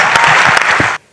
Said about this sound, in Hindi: मुझे बैठ के पढ़ने के लिए एक ताली बजा दीजिए एक बार